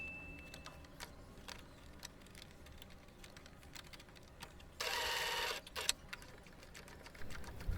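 Sewing machine stitching a blouse in short, quiet bursts of rapid ticking, with one louder continuous run of stitching partway through, close by and with no talking.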